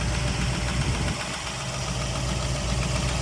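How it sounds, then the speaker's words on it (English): The engine of a 1968 Ford Bronco Stroppe Baja runs steadily at close range, a dense, rumbling idle with a low throb and constant mechanical texture, no talking over it. "Motor sounds excellent"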